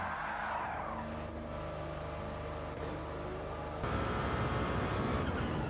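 In a sim racing game, a race car engine drones along and then a sudden harsher burst of tire and engine noise breaks in as the car is spun out by contact. The sound is continuous and fairly close, with no voices.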